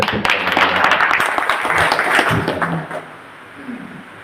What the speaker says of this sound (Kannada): ತಾವೆಲ್ಲ ಚಪ್ಪಾಳೆ